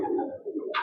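Pigeon cooing at a pigeon club in Xırdalan, a low soft coo running through most of the brief moment, with a short higher flutter or chirp near the end.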